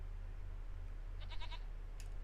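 Goats in the Farming Simulator 25 game let out a quick run of several bleats, fairly close, over a steady low engine-like hum, with a second short bleat soon after.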